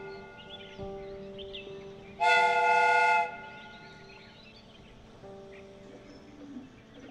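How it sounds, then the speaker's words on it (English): A steam whistle on a replica train in a Sherlock Holmes detective video game gives one loud, sustained harmonic blast of about a second, rising abruptly over a low mechanical hum and fading back to faint ambience. "The steam whistle is ready to be used."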